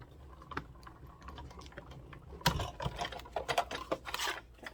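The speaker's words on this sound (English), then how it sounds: "So then I'm just going to run it through my die cut." A manual die cutting machine cranks paper stock through its rollers to cut out a circle for a box project, giving a quiet, irregular clicking and ratcheting that grows louder and busier partway through, alone without talk.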